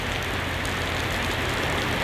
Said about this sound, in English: But it's raining so hard that the sky is almost completely obscured.